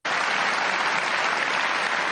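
Audience applause in an interview setting, a steady dense wash of clapping from many hands, loud and continuous throughout with no gaps.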